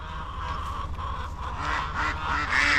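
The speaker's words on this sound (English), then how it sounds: "Here's the chickens." A flock of poultry clucks and squawks nearby, a busy chorus of overlapping calls that grows louder toward the end.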